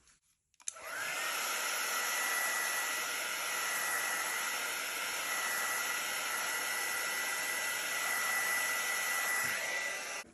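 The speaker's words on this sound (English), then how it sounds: "So I'll just use my heat embossing tool." Heat embossing tool blowing hot air over a fluid-paint swipe piece, switching on after a brief pause into a steady loud whooshing hiss with a faint whine, holding evenly until it cuts off near the end.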